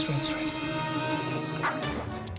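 A dog whimpers and yips in a Greenies dental treats ad, its high thin cries rising over a dense bed of music and background noise.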